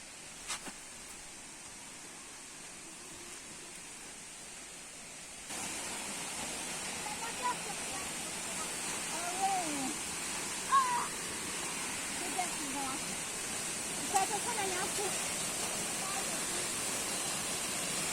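A waterfall in a small wood sends up a steady, soft broadband rush that grows fuller partway through, with a few faint bird calls above it.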